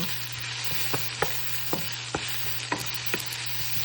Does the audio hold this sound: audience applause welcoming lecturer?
no